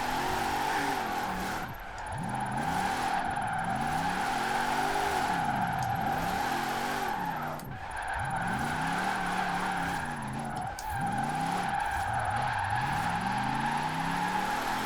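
A Jeep Gladiator drifts in Forza Horizon 4, its engine droning steadily as the revs rise and fall in sweeping waves, with continuous tyre squeal and brief dips where the car shifts between slides.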